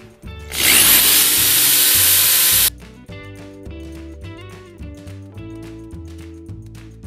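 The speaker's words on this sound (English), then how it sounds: "I've been drilling now for maybe 10 minutes" A power drill bores holes in plant pots, whining loudly for about two seconds with a rough grinding edge, then cutting off abruptly to quiet clicks and knocks of handling.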